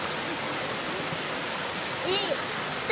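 A waterfall roars steadily up close, a dense unbroken rush of cascading water with a faint voice briefly audible beneath it near the end.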